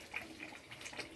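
Water is drained off soaked paneer pieces in a home kitchen, heard as a faint, steady trickling wash with no talking.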